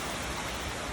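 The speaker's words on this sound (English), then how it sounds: "here's to the rain" Steady rain falls on a farm in a dense, even hiss with no distinct drops standing out and no voices.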